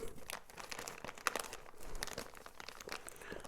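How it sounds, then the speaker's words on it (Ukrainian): A large plastic zip bag from an AliExpress parcel is pulled open and handled, giving a steady close crinkling and crackling with a sharp snap partway through, no talk. "І великий зіп-пакет. Відкриємо його."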